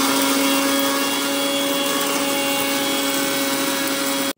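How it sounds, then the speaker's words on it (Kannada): A mixer grinder dry-grinds coriander, cumin, cloves and cardamom with a loud, steady motor whine and rattling spice powder that runs unbroken for several seconds before cutting off abruptly. "ಇದನ್ನೀಗ ಹುಡಿ ಮಾಡಲಿಕ್ಕೆ ಮಿಕ್ಸಿಯಲ್ಲಿ ನೀರೆಂತ ಸಹ ಹಾಕ್ಲಿಕ್ಕಿಲ್ಲ, ಡ್ರೈ ಆಗಿ ಹುಡಿ ಮಾಡಬೇಕು"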